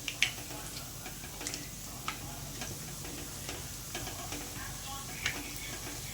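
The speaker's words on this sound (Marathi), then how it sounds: "पाच दहा मिनटं याला हे छान गरम तेलामध्ये तळून घ्यायचे" Pav vada frying in hot oil makes a steady, dense sizzle with scattered small pops and crackles throughout, close and continuous, with no voices.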